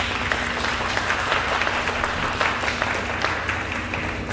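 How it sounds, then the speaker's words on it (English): A seated audience gives steady, dense applause at a powwow talk on Native American dance, many hands clapping continuously for over four seconds with little else over it. "please give Bob Tom a welcome applause"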